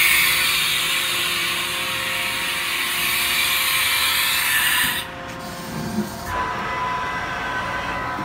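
The spindle of a Haas VF-3 vertical machining center runs with a smooth, steady high whine, then cuts off sharply partway through, leaving a lower mechanical hum.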